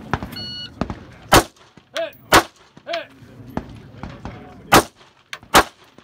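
Rifle shots fired off a bipod, through a scope set to 6 power, on a stage of a black rifle match: several sharp, loud cracks at irregular intervals, mixed with fainter pops and brief ringing tones.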